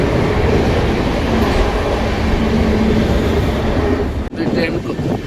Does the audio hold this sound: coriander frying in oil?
no